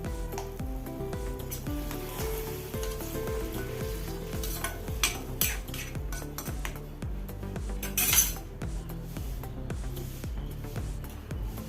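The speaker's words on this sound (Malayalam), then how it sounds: "നമുക്ക് വേവിച്ച് വെച്ച ചക്കക്കുരു ചേർത്ത് കൊടുക്കാം ഒന്ന് ഇളക്കി കൊടുക്കാം" Boiled jackfruit seeds tossed into a hot pan for a thoran hiss and sizzle steadily while a spoon stirs them in repeated scraping strokes, with occasional clinks of metal against the pan.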